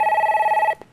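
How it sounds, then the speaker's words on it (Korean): A telephone bell rings in a quick, steady warble to announce a call-in stock consultation on a financial broadcast, then cuts off abruptly with a faint click. "네, 그럼 이번에는 전화 상담 이어가겠습니다."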